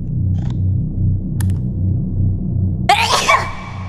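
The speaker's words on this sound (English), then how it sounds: "I really gotta sneeze." A loud sudden sneeze bursts out over a low rumbling game soundtrack, close and sharp, with a brief gasping tail.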